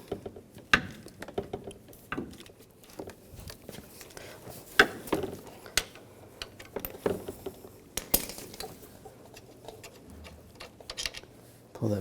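Ratchet fitted with a T45 socket working a condenser bolt on a 2011-2018 Volkswagen Jetta, a quick irregular run of close metallic clicks and ticks, fairly quiet, with soft handling clatter between bursts.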